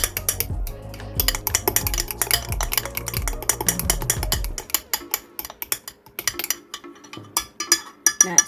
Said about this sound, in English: Now I'm going to mix the flour in